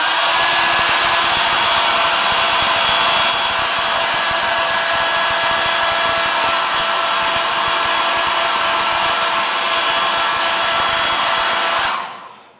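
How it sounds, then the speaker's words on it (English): A hair dryer melting beeswax polish on a wood carving blows with a constant, loud whirring hiss for about twelve seconds, then switches off abruptly. "Then use a hairdryer to melt the wax."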